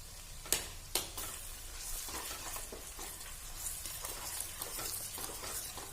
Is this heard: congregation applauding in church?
no